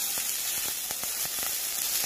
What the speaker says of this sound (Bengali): কড়াই খুব ভালো করে গরম করে নিয়েছি। এবারে অল্প একটু জল দিয়ে দেব।